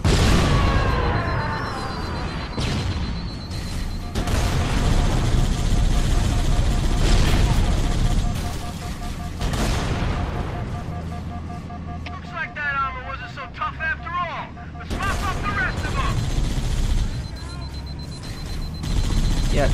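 Gunfire against bosses in Halo: The Master Chief Collection, dense loud shooting and explosions mixed with game sounds, with someone talking over it.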